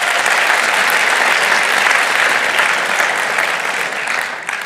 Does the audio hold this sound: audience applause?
yes